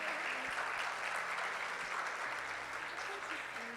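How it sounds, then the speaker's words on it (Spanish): An audience applauds at a health-outcomes conference session, dense sustained clapping heard from within the room, with faint murmuring beneath and a slight fade toward the end. "Quiero pedirles nuevamente un gran aplauso para ellos y ellas."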